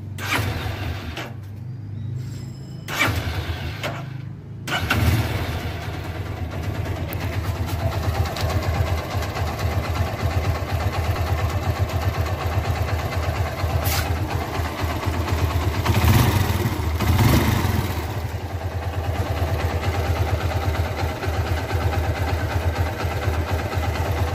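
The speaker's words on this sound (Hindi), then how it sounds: "एक बार फिर से इंजन का साउंड चेक कर दें" A 2014 Hero Karizma R motorcycle engine, warmed up, idles steadily and close by, a continuous low rumble with a few mechanical clicks and creaks early on.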